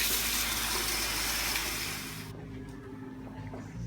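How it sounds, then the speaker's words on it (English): Tap water gushing steadily while rinsing freshly dyed silver blue-gray hair, a loud continuous hiss that cuts down to a quieter, duller flow near the end. "so I'm going to rinse now"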